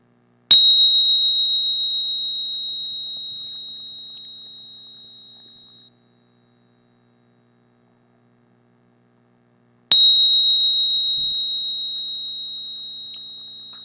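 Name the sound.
Tibetan bell rung during meditation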